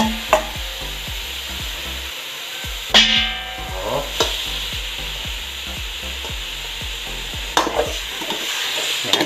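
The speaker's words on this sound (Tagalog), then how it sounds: "Igigisa lamang po natin to." Meat for Ilocano sinanglaw sautés in a pan, with continuous frying sizzle and repeated scraping, stirring strokes of a utensil against the pan, plus a few sharper knocks, all close and without speech.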